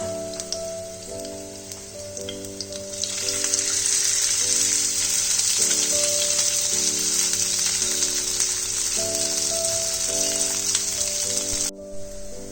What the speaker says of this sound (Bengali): আলুটা যতক্ষণ ফ্রাই হচ্ছে